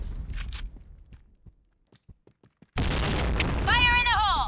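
A grenade goes off in the shooter game CrossFire, a sudden loud roaring blast that follows a stretch of sparse footsteps and clicks and sustains at full level, with a voice and whistling effects layered over it.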